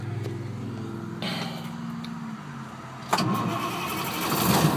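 A diesel truck engine cranks and starts up close by, a rough mechanical churn settling into a steady idle, then rising with a clunk and louder running toward the end.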